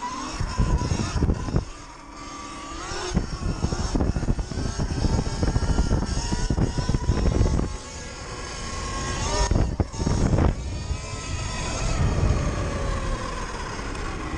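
A Surron Light Bee 72V electric motorbike with a BAC 4000 controller rated at 16000W accelerates hard, its motor whine rising and falling in pitch, loud and close, with wind and drivetrain noise over several pulls.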